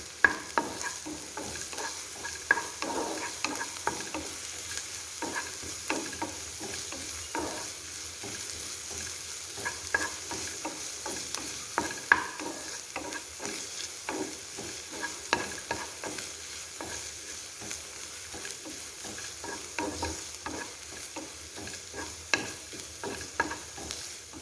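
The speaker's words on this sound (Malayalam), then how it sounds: "ഇത് നല്ലപോലെ തന്നെ ഒന്ന് മൂപ്പിച്ചെടുക്കാം." Chopped onions sauté in a pan for beef ada, giving a soft, continuous sizzle with frequent scraping stirs of a spoon, quiet and close with no one talking.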